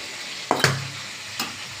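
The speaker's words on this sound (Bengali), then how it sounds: "বেগুনটা আমার ভাজা হয়ে গেছে।" Eggplant slices frying in hot oil in a home kitchen, with a few sharp clatters and stirring knocks over a steady low sizzle, two close bursts early and a fainter one later.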